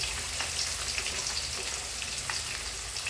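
Onions frying in oil in a pan give off a steady, close crackling sizzle with scattered pops, continuous and alone throughout.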